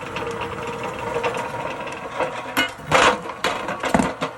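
A Thumler's Tumbler rock tumbler drum turns on a replacement belt, giving a steady low mechanical churn and rattle with louder knocking bursts near the end.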